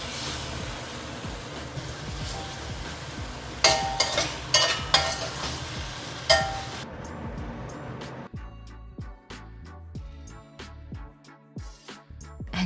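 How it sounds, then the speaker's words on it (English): Fresh mushrooms sauté in a pan for a pork belly stir fry, giving a steady close sizzle with scraping stir strokes and a few sharp clanks, which then gives way to quieter, sparse sizzling with occasional taps. "Then saute until the fresh mushrooms turn soft."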